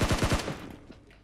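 Rapid automatic gunfire bursts out in PUBG Mobile, about five quick, loud shots in a tight rhythm, then a short fading echo.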